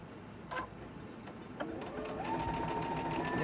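A sewing machine stitches fabric pieces together with a 1/4 inch seam, a faint whirring run with small clicks and stops, rising slightly toward the end, with no talking.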